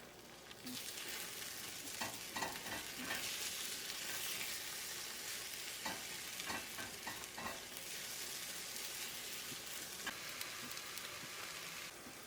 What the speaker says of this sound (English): I'm gonna give my egg a little stir.